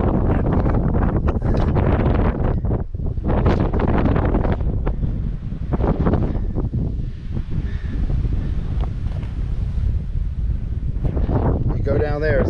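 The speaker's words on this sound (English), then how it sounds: "But the wind is blowing" Strong wind buffets the microphone on a mountain trail in Virginia, a loud, continuous roaring rumble with gusty surges throughout.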